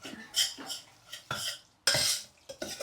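A spoon stirs food roasting in ghee in a pan, producing several loud, close scraping strokes in an uneven rhythm, with brief quiet gaps between them.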